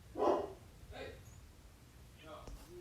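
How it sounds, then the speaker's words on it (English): A dog barks indoors in the background, a couple of sharp barks then softer yips spaced over a few seconds, with a person talking over them. "Sorry for the dog in the background."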